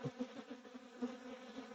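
Honeybees buzz close around a beekeeper's veil during a first spring hive inspection, a steady humming drone with slight pulsing, no talk.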